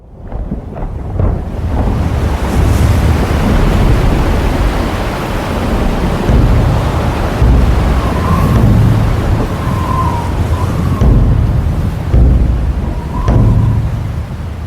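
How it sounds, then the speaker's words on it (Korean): Stormy sea battered by strong wind and crashing waves, a loud, continuous roar of wind and surf with heavy low rumbling surges throughout, no voices. "거센 바람과 함께 성난 파도는 금방이라도 배를 집어삼킬 듯 요동치고 있었어요."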